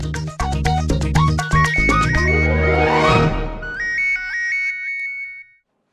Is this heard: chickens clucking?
no